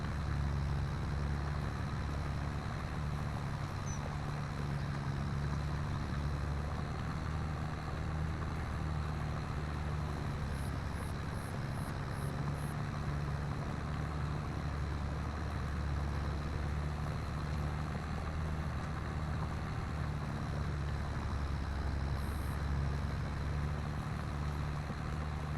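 A tractor mowing a field in a farming video game drones steadily at a distance, a low constant engine hum with a faint ticking clatter partway through, quiet and without talk.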